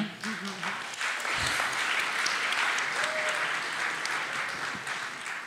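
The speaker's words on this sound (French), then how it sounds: "je pense qu'on peut l'applaudir" Steady applause from an audience, dense clapping that swells and holds at a constant level for several seconds, with a faint voice briefly underneath.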